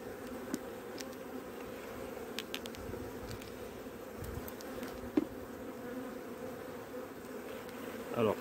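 Honey bees hum steadily around freshly opened hives on the coast during the season's first inspection, a soft, continuous buzz with occasional louder passes of single bees near the listener.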